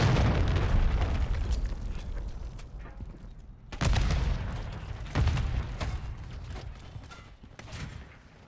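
A cruise missile strike in Call of Duty: Modern Warfare III lands as a heavy rumbling explosion, with sharper blasts and crashing debris piled over it. The deep roar is loud and sustained and slowly fades.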